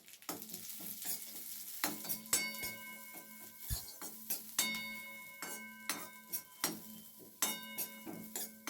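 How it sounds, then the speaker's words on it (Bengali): Dry fruits lightly frying in ghee in a cooker while a metal spoon stirs them, giving a faint sizzle under repeated ringing clinks and scrapes against the pot. "এই ড্রাই ফ্রুটগুলোকে একটু হালকা করে ভেজে নেব সামান্য নাড়াচাড়া করে নেবো ঘিয়ের মধ্যে"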